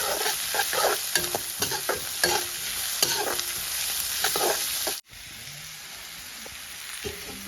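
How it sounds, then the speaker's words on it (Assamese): Onions with ginger and garlic fry in a pan while being stirred, producing a close, steady sizzle broken by repeated scraping strokes, which drops abruptly to a quieter frying hiss partway through. "পিয়াজখিনি ধুনীয়াকে ভাজি ল'ম"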